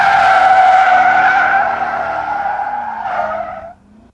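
Chevrolet C5 Corvette with LS1 engine squealing its tires through a hard turn, a loud, sustained high-pitched screech that wavers for about three and a half seconds before cutting off.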